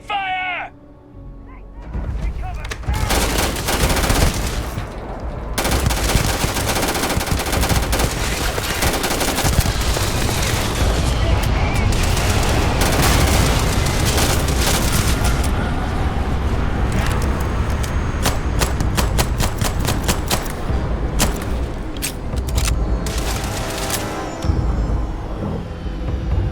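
Gunfire during a Starfield ship-boarding fight rolls on almost without pause, dense overlapping shots and blasts in a loud wall of combat noise, with occasional voices mixed in.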